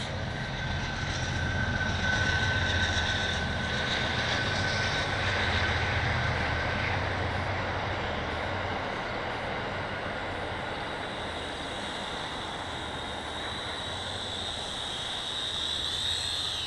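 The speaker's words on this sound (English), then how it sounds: "That's the JJRC H10. Pretty nice little quad." Small JJRC H10 quadcopter drone in flight, a steady whining motor buzz that holds constant throughout with a slight rise and fall in pitch, moderately close, no talking.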